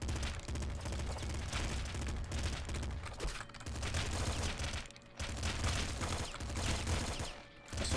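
Pop gun shots in the game Nuclear Throne: rapid, loud bursts of gunfire repeat almost continuously, broken by a few short dips, over a busy game soundscape without voices.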